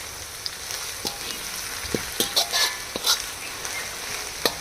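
Coriander chutney mixture fries in oil in a pan with a constant busy sizzle. Scattered crackles and a few soft stirring knocks sound close by.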